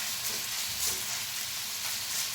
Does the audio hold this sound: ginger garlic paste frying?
yes